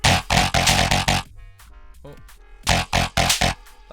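Dry jump-up drum and bass bass played in FL Studio: a run of loud, punchy, gritty stabs in a choppy rhythm, broken by a short quieter gap with a low tone and a brief vocal exclamation.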